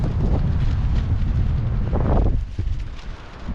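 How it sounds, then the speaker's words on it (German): Strong wind gusting across an open campsite in Sweden, a steady roaring rush buffeting the microphone with a louder surge near the middle, no voices. "Es ist so krass, wie der Wind eigentlich durchbläst"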